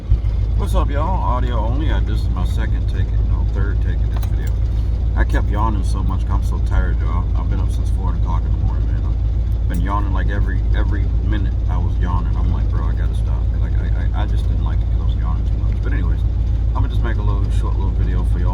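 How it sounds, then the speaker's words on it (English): A pickup truck engine idles with the heater running inside the cab, a steady low rumble continuing beneath someone talking close to the microphone throughout. "If you hear a noise in the background, I'm sorry. It's my pickup truck."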